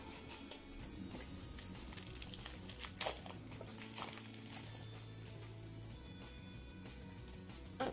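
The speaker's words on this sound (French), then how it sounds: "vous en retirez le papier" Crinkling and tearing of a paper wrapper as it is pulled off a card inside a Pokémon tin box, a close, soft run of rustles with a few sharper rips, and no talking.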